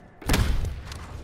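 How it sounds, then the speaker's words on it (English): A concussion grenade in Call of Duty Black Ops 6 goes off as a single close, heavy thud, a short sharp burst followed by a brief fading rumble. "Concussion grenade out."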